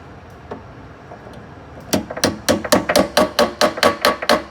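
A hammer drives a nylon drawer glide button into an old nail hole, a quick run of about a dozen sharp, evenly spaced taps, loud and close, after a few quiet knocks.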